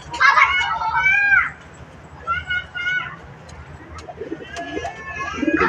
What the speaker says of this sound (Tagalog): Ayan po sila, mga kalapatids.